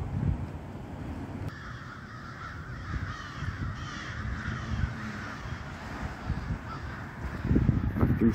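Huge flock of about 25,000 crows and other corvids passing overhead, a dense continuous wash of cawing from many birds at varying distances, swelling louder near the end.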